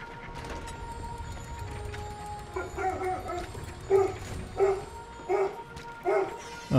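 Dog barking indoors at a knock on the door, a series of sharp, fairly close barks and yips repeating every second or so over a background of game sounds.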